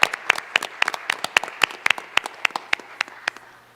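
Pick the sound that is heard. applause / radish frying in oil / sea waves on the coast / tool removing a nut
applause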